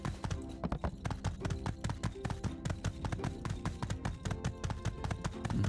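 Horse hooves clip-clopping in a steady galloping rhythm while riding in a video game, close and clear, with a soft game ambience underneath.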